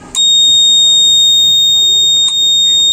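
A buzzer on an automotive short-circuit protection module sounds during a deliberate short to ground, giving two sharp high beeps, one at the start and one near the end, loud over a low background hum.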